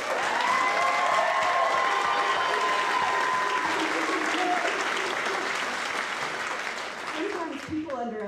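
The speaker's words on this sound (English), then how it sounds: "You can go ahead and give them an applause." An audience at a nursing pinning ceremony claps loudly and steadily, a dense wash of applause with a few cheers, tapering slightly near the end.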